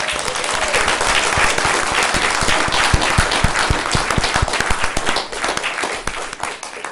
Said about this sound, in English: let's give the kids a final round of applause